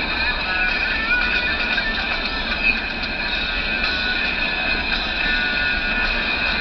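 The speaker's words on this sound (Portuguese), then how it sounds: "que trenzão" Steady, loud rumble and roar of a train rolling by, with metallic screeching and rattling continuing throughout.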